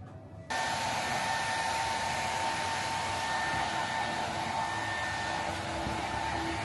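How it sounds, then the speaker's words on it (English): Hair dryer drying freshly washed hair at a salon, switching on abruptly after a quiet moment and then blowing in a steady, close, even whine. "Just had my hair washed and she's gonna dry it now"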